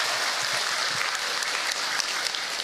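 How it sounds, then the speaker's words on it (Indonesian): Steady applause from an audience at a religious lecture, dense and continuous throughout without a break, with no talking over it. "Tepuk tangan buat bunda yang ada di sini."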